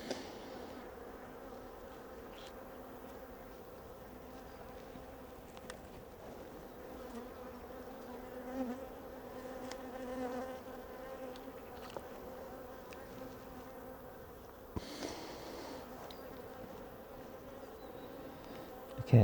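Honey bees hum in a steady, soft drone from an open hive being inspected, with occasional brief clicks and knocks of handling and a sharper bump near the end, no voices.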